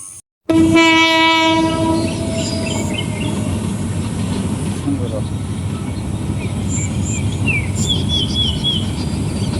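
A passenger train horn blares loudly, then the train rumbles and clatters steadily along the rails, with faint voices in the background.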